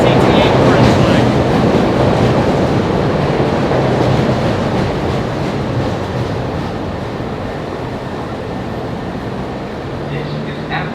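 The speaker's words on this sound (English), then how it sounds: "Today we're going to ride one of my favorite lines, the CTA Orange Line." Ride aboard a Chicago CTA Orange Line 'L' train: a loud, steady rumble of the moving railcar with rail clatter and hiss throughout, easing slightly toward the end, with faint voices underneath.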